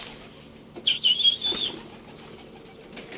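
A flock of released pigeons beats its wings in a brief flurry of flapping for about a second, fairly close, over quiet outdoor background, with a faint whistle and no talking.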